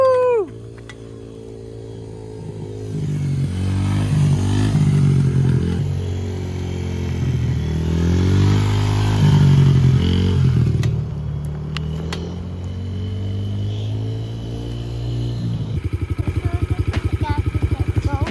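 A 2023 Yamaha TTR50 kid's dirt bike engine idles and revs up in waves nearby, its buzzy drone rising and falling before dropping to a rougher, pulsing idle toward the end.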